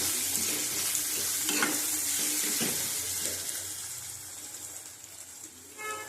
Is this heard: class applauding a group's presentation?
no